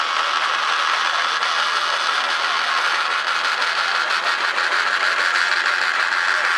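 A vintage engine drives a winch at an outdoor vintage show, its gears and cogs turning in a steady, continuous mechanical clatter and whir, loud and close throughout.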